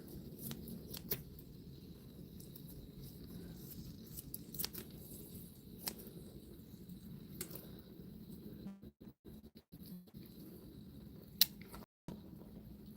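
Kitchen scissors snip raw beef into bite-size pieces for a Thai curry, giving sparse, close, crisp cuts over a low steady background hum, with a couple of brief dropouts near the end.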